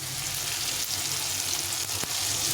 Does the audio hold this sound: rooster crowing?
no